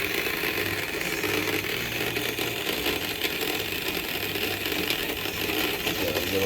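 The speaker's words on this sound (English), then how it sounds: "I'm gonna go ahead and turn up my forward so I can get these tires spinning." A small electric RC car motor whines steadily at high speed with the tires spinning in place, a constant buzzing drone that stays near and fairly loud throughout, with no talking.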